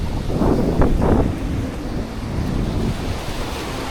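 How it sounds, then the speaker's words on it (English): Surf washes onto a Mediterranean beach in Tel Aviv, a steady roar of breaking waves with heavy wind buffeting the microphone and no voices. "I have reached the beach"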